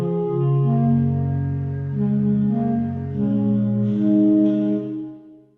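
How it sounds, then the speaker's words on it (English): Gentle Winds Kontakt instrument samples play with the built-in reverb, as overlapping sustained wind-like tones that blend smoothly into one another and fade out at the end. "And here's how the reverb sounds."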